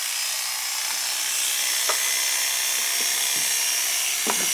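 Artero 1.5 clipper blade running with a constant high buzzing whine and a faint rattle, close and steady, with occasional small clicks and no talking.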